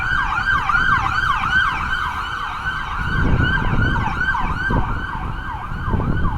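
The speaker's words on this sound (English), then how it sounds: "I hear sirens." A loud wailing emergency health services siren cycles up and down continuously on a winter city street, with road and engine rumble underneath.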